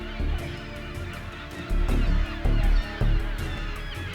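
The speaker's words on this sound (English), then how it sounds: "Thousands of young pelicans that hatched on the island a few months earlier." Young American white pelicans call from a crowded island colony on the Great Salt Lake, a dense chorus of low honking grunts with several louder bursts close by.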